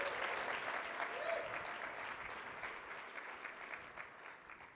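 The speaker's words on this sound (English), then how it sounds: "ladies and gentlemen, a big round of applause for Gary Hall Jr." Audience applause for a speaker at a sports and diabetes advocacy event, dense steady clapping from a crowd heard throughout, fading slightly toward the end.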